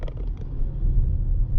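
Heavy road traffic in Seattle: a steady, loud low rumble of cars and motor vehicles rolls on without pause, with no voices over it.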